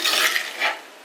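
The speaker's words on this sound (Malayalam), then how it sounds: "ഇളക്കി നന്നായിട്ടൊന്ന് മിക്സ് ചെയ്ത് റെഡിയാക്കി എടുക്കണം." Stirring fish thoran (mackerel) in a pan: a short run of scraping, rustling spatula strokes with a faint sizzle, two soft swells over about a second, close and alone.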